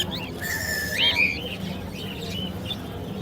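Birds chirp and tweet in short bright calls at Lalukhet bird market, heard over a low background murmur of crowd noise.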